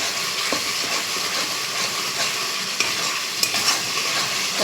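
Ground spice paste with nigella seeds and ginger-cumin paste frying in mustard oil until the oil separates, a steady close sizzle with occasional spoon clicks against the pan, no talking.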